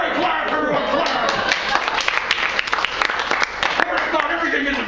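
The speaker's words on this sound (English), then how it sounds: "Okay, great clap, everyone, clap." Audience clapping at a comedy telethon show, a loud, close round of many hands with distinct sharp claps over a crowd wash, with voices talking and cheering underneath.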